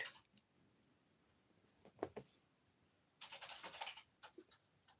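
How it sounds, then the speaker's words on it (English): Fast, forceful typing on a computer keyboard, very quiet and fairly close, coming in irregular clusters of sharp clicks with a dense burst toward the end and near silence between bursts. "Oh, that sounds like angry typing."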